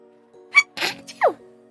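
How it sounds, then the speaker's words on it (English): A single close, sharp sneeze bursts out against a quiet background with a faint steady hum. "I sneezed."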